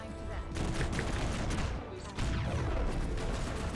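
Sustained bursts of automatic gunfire from a video game, a dense rapid rattle that runs loud and continuous with a brief dip midway, while players' voices come through faintly underneath.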